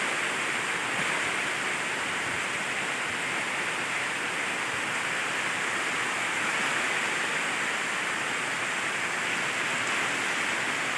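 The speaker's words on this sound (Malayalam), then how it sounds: "പുറത്ത് നല്ല മഴയാണ്" Heavy rain pours down outside a house, a dense, steady hiss that stays constant and fairly loud for the whole stretch, with no voices.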